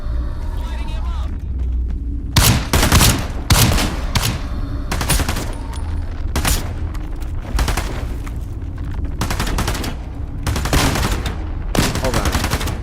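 Bursts of gunfire in the VR shooter Into The Radius 2, loud repeated volleys of shots with short gaps between them, mixed with game noise and occasional talk.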